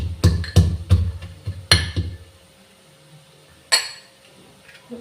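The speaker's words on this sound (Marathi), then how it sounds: "तर इथे मी हलव्यासाठी लागणारे काजू, बदाम, ड्रायफ्रूट्स बारीक करून घेते." A knife finely chops cashews, almonds and dried fruit for carrot halwa, making a quick run of sharp, close taps on a board, then a pause and a single louder knock.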